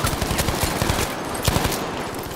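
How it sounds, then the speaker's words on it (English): FG42 automatic rifle in Battlefield 5 fires a rapid, continuous burst of loud, close gunshots that stops briefly and then resumes with a few more shots. "FG42, also very nice clip. Got 4 kills here with the first mag of 20 bullets."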